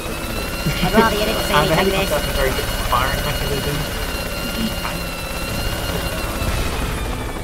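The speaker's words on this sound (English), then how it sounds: "Do you want to give an example of hijacking the chopper?" Helicopter rotor and engine drone in the video game Worms W.M.D, a steady loud mechanical hum with a few thumps and clanks, under someone talking throughout.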